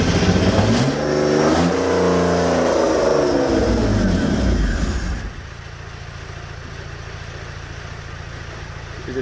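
A BMW E36 with an M52 engine and no exhaust fitted revs hard and loud, rising and falling for about five seconds before it drops to a rough, lower idle.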